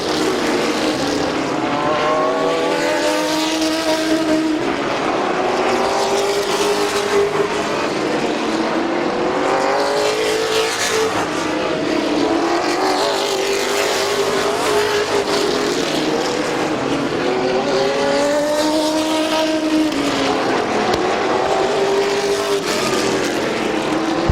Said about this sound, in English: The number 6 of Corrick starting to reel in the 26 of Straley for the second position